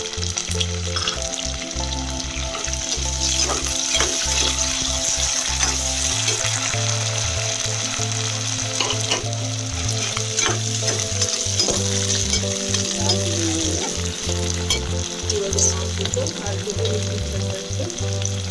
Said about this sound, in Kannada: ಸ್ವಲ್ಪ ಈರುಳ್ಳಿ ಫ್ರೈ ಹಾಕಿ ಬಟಾಣಿ ಹಾಕ್ಕೊಳ್ತೀನಿ